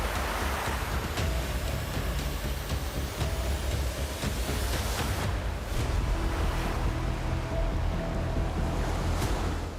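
Strong sea waves surge and crash around a travelling boat, with loud continuous wash, rushing water and wind buffeting, and no voices.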